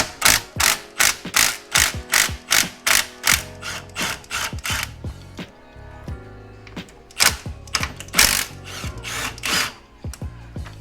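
A ratchet with socket loosens the bolts of a turbo blow-off valve plate, giving loud close clicking bursts in quick repeated strokes, with pauses and further ratcheting runs.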